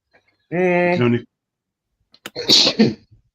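A single loud sneeze, preceded by a voiced intake, bursts out close by in otherwise quiet surroundings.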